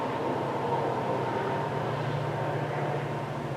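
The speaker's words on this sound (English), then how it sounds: "Hopefully this sounds like a commuter train" A commuter train passes at a distance, a steady low rumble and rolling roar that stays even and moderately faint throughout, with no voices.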